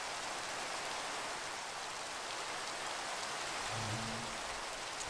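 Rain falls in the video game Minecraft as a steady, soft, even hiss. It continues without a break for the whole stretch, with a faint low tone rising briefly near the end.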